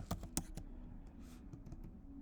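Code typed on a computer keyboard: a few sharp, loud keystrokes at the start, then softer scattered taps close to the mic in a quiet room.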